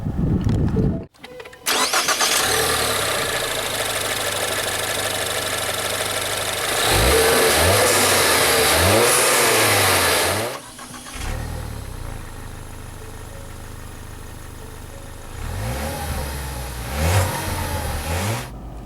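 A 2013 Ford Fusion Titanium starts by push button: a short starter crank catches into a steady idle, followed by several firm revs that rise and fall, then settle back to a smooth idle, close and alone.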